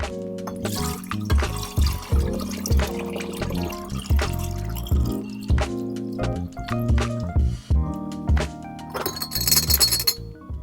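Fire cider pours and glugs from a mason jar into a glass bottle, with clinks of glass and a brief trickle near the end, close and fairly loud.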